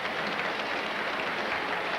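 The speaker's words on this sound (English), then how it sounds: "The Pittsburgh fans have the steel girders throbbing like tuning forks with thunderous cheers" A stadium crowd at a Pittsburgh baseball game roars in steady, thunderous cheering, a dense continuous wash of noise with no single voice standing out.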